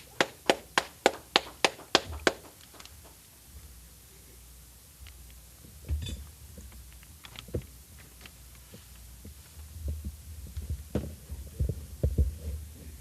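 A church congregation at a Sabbath service claps a quick burst of about eight sharp, evenly spaced claps, then scattered quieter claps and taps follow over a low hum.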